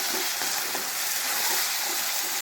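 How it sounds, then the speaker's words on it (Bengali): Spice paste with coriander powder and Kashmiri chili powder fries in oil, making an even, unbroken hiss of sizzling that stays close and steady throughout. "এবারে মশলাটাকে খুব সুন্দরভাবে ভেজে নেব।"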